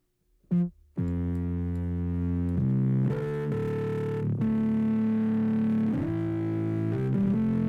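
A synthesizer patch plays sustained, buzzy held notes with a rich harmonic stack, sliding between pitches in a legato line, loud and up close, after a short blip at the start, with no one talking.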